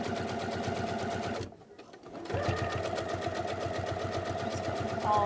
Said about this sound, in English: just top stitch right along the inside of that collar stand